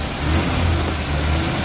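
A 1947 Dodge 1/2 ton W Series truck with its original numbers-matching engine drives along, a steady low rumble heard from inside the cab, loud and even, with no talk.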